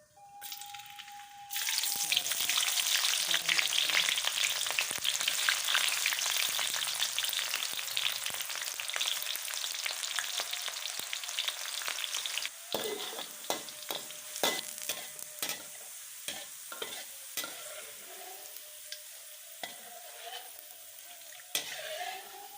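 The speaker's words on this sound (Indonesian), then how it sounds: "Sekarang digoreng terinya ya." Small anchovies (teri) drop into hot oil for sambalado, setting off a sudden loud sizzle that slowly fades into softer crackling with occasional stirring clatter, close by and without speech.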